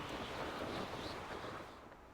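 Rushing river water in the game Hogwarts Legacy, a continuous broad wash of flowing water, fairly loud and steady throughout with no talking.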